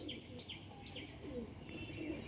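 Madrasi pigeons cooing in a crowded loft, with soft murmuring coos and faint chirps over a steady background hum, moderately distant and quiet.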